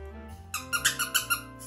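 A small baby toy shaped like a Christmas tree with a star on top squeaks five times in a quick, even series, each squeak sharp and close after a brief quiet lead-in.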